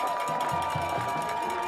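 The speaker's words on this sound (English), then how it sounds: "Charger faithful on their feet, cheering that defense on." Crowd at a high school football game, Wagner Thunderbirds vs Champion Chargers, on their feet cheering the defense: a steady, dense roar of many voices throughout, with rhythmic thumps and some speech mixed in.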